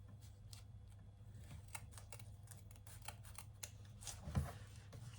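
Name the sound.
trimming foam for a sewn bag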